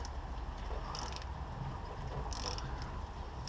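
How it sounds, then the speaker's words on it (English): A ratchet fitted with an 8mm socket undoes bolts on a Vauxhall Zafira, giving two short bursts of quick, faint clicking over a low steady rumble, with no talk. "I'm using a 8mm socket on this. So that goes in there, and we're just gonna undo these."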